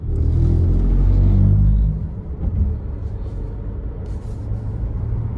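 Car on the road with a Starlink Mini dish suction-mounted to it, a loud close rumble of engine and tyres that eases after a couple of seconds into a steadier driving drone.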